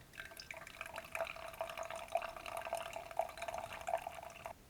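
Hot water is poured over ground coffee in a pour-over brewer, a soft, steady trickling stream heard close and quiet throughout, with no talk.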